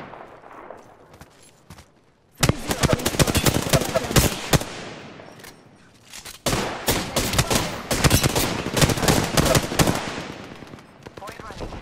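Dense automatic and rapid gunfire bursts from the video game Apex Legends, loud and sustained after a quiet opening, with a brief lull midway before more heavy firing resumes.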